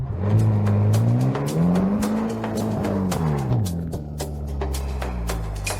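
A car pulls up with a loud engine hum that rises and falls, accompanied by scattered clicks and knocks and no talking.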